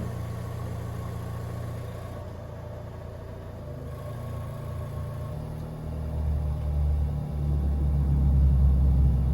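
A car engine idles steadily on a level surface after coming off jack stands, a low continuous rumble that grows a little louder and heavier toward the end, with no talking.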